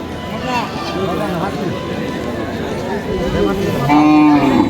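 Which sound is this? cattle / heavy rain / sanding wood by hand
cattle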